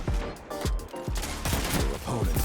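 Rapid bursts of gunfire from a hip-fired weapon in Destiny 2, played with an off-brand PS1 controller, crack in a quick uneven string of close, punchy shots with faint talk underneath.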